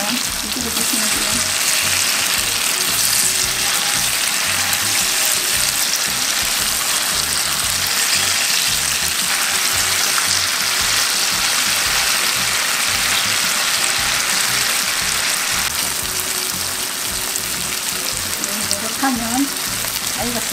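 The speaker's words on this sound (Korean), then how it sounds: "노릇노릇 튀기면 이쪽으로 주시면 돼요." Tofu and zucchini rolls frying in hot oil in a Korean home kitchen, a loud, dense, continuous sizzle and crackle throughout, with faint voices underneath.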